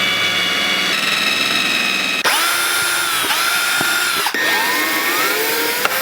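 A power drill drives wood screws into a wooden planter box, a loud continuous whirring motor with a pitch that rises and falls across several bursts, each ending in a brief clack.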